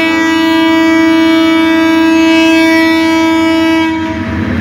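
A train at Parbatipur railway junction sounds a loud, sustained multi-tone horn for about four seconds, close by, before it cuts off into rumbling.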